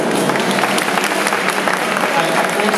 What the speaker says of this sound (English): Let's give another round of applause to Kaori and Memoirs